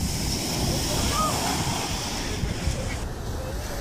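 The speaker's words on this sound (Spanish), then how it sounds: "trabajadores del puerto casi son alcanzados por estas olas cada vez más fuertes" Strong sea waves surge over the harbor at Plaza Grau in Callao, Peru, a heavy continuous roar of surf and rushing water mixed with wind buffeting, fairly close and steady throughout.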